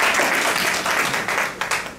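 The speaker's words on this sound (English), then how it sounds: "Give yourself a round of applause for being such a great family." A conference audience in a hotel in Accra, Ghana applauds with a full, continuous wash of clapping from many hands, fairly loud and close, thinning into a few scattered claps toward the end.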